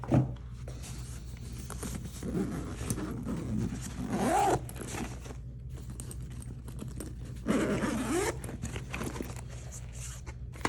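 The zipper on a backpack's belly pocket rasps open in two close, drawn-out strokes a few seconds apart, with quiet handling rustle between them.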